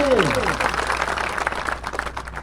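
Audience clapping at a workplace safety program, a short burst of applause that fades quickly under a speaking voice.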